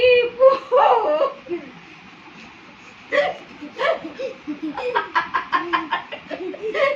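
A voice imitates a rooster crowing in short rising squeaky bursts, followed by a quick run of giggly hiccup-like yelps, close and alone.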